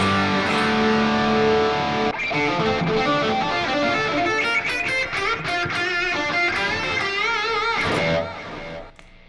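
An electric guitar plays through a Walrus Audio Ages overdrive pedal on its first drive setting with no amp, giving loud, driven chords and sustained notes in a busy phrase that fades out at the close.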